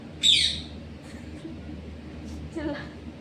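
A pet parrot lets out one sharp, close squawk, followed a couple of seconds later by a fainter, shorter call over low background murmur.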